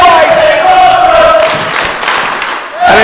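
A wrestling crowd cheering and roaring at Cedars Upper School, a dense, loud mass of voices with shouts rising and falling over a few seconds.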